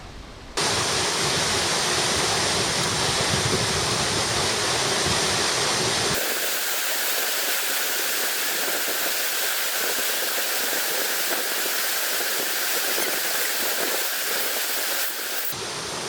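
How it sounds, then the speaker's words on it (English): A waterfall roars on a via ferrata route near Kandersteg, a dense, steady rush of falling water heard close, its tone shifting partway through, with no talking. "the little misting that the beautiful waterfall gave you"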